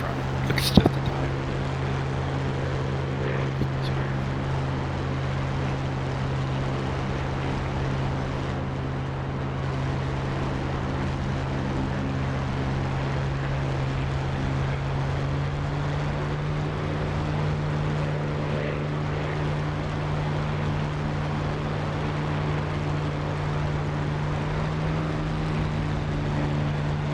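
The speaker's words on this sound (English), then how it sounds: "My engine's running." Supermarine Spitfire Mk IX piston engine running in the DCS flight simulator, a steady low droning hum held evenly throughout with a brief click near the start.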